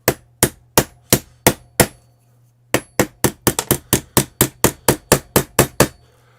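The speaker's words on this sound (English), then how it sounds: "This is my little elf hammer here." A small hammer strikes metal in sharp, ringing blows, first a run of six evenly spaced hits, then a short pause, then a faster series of about fifteen loud, close strikes.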